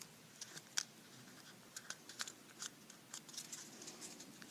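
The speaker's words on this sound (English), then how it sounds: "I'm also going to tape it on the inside" Tape being pulled and pressed along the inside of a paper cone, faint close crackles and short sharp tearing ticks at an irregular pace, with no talk.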